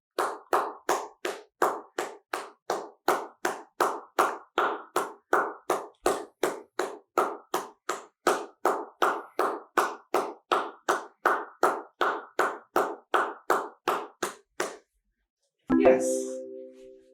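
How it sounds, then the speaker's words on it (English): Steady, evenly spaced hand claps continue for about fifteen seconds, close and crisp with regular rhythm, then stop briefly before a short burst of other noise at the end. "Clap your hands for 20 seconds."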